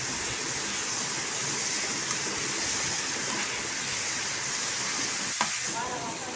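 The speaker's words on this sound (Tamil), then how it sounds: "இத நல்லா திருப்பி விடுங்க இந்த சக்கரை பாகுலயே அவல் வந்து நல்லா வெந்துரும்" Flattened red rice is stirred through hot sugar syrup in a pan, giving a steady close sizzle and bubbling hiss throughout, with a brief scrape near the end.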